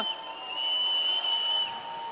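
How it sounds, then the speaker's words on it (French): A referee's single sustained, shrill whistle blast calling a foul, lasting over a second, with faint room noise around it. "C'est ce que je siffle, Yannick"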